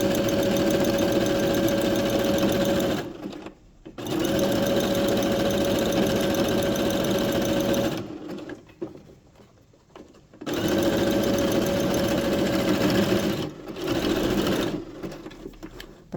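A sewing machine stitches fabric for a pet dress in long steady runs of rapid mechanical whirring, stopping twice for a few seconds of near silence before resuming, close and loud.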